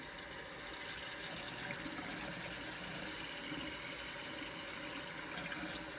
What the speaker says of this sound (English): I'm going to turn the faucet on.